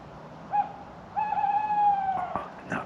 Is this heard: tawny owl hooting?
yes